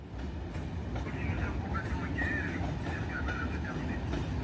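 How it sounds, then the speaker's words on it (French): Regional and intercity trains rumble steadily past at close range in Vierzon station, a low continuous roar with faint squeals of wheels on rails rising above it. "le ballet des trains régionaux et intercités se poursuit en gare de Vierzon ce samedi matin"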